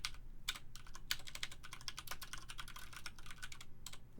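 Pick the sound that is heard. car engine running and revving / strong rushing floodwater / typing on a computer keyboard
typing on a computer keyboard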